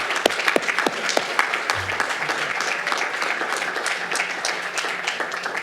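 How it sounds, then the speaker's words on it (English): Graduates and guests at an awards ceremony clap in a steady, full round of applause, dense overlapping claps with some individual sharp hits near the front. "just a round of applause for your family members and friends who have supported you"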